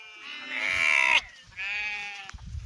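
Sheep in a village flock bleat twice in long, wavering calls close by, with a short pause between them and faint outdoor noise underneath.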